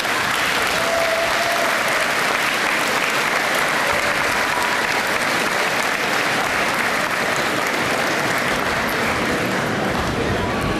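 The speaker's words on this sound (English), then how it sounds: "Would the graduates please turn around and applaud your families and friends on this special day." A large graduation ceremony audience of graduates applauding their families and friends, a sustained dense wash of clapping lasting about eleven seconds, steady and full with no clear speech.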